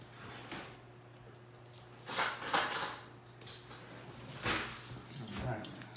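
A metal spoon scrapes and squishes through ground meat in a bowl during sausage empanada prep, giving a few soft clinks and wet smearing strokes over a low steady hum, with people talking in the background.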